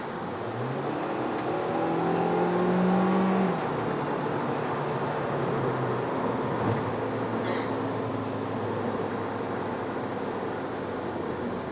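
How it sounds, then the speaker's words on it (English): A 2018 Hyundai Elantra Sport with a 1.6 turbo engine accelerating in sport mode, heard from inside the cabin as a moderate rising engine drone that shifts pitch and settles into a steady road roar. "Let's just see how the acceleration is in sport mode."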